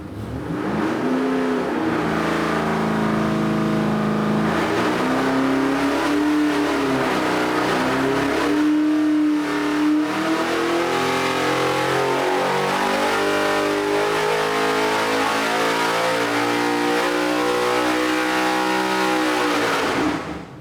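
An LS3 404-cubic-inch stroker V8 with 11.8:1 compression and a 252/260 hydraulic cam roars loudly on an engine dyno at 26 degrees of timing, its pitch climbing steadily through a long full-throttle pull before cutting off.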